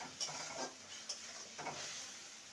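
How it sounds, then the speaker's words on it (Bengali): Kashmiri chilli powder, turmeric and salt are stirred as they fry in a pan for a gathi kochu dish, with soft, quiet sizzling and a few light scraping strokes. "ভালো করে নেড়ে নেব"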